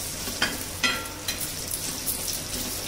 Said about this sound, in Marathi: आवडीनुसार थोडंसं मीठ टाकलेलं आहे. फ्राय करून घेऊया